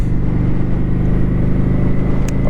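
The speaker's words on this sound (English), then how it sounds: "That exhaust is nice. It's got a nice noise from it." A cruiser motorcycle engine idles with a steady, deep rumbling exhaust throb, close by and continuous throughout.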